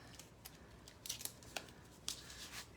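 Scissors snip through tape while making cards, a series of faint, crisp close cuts in an uneven rhythm, about half a dozen sharp snips over a quiet background.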